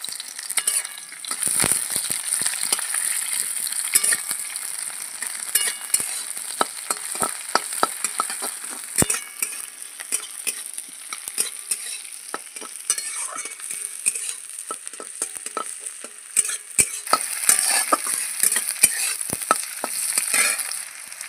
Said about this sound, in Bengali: তেল গরম হয়ে গেছে, কালো জিরে দিয়ে দিচ্ছি, কুচিয়ে রাখা পেঁয়াজ। পেঁয়াজটা একটু হালকা লাল করে ভেজে নেব।